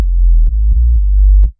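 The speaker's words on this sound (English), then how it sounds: "So the next sound is the sub" A deep FM-synth sub bass, a softer version of a mid-bass patch, drones loud and smooth with a few gentle note changes marked by soft clicks, ending after about a second and a half.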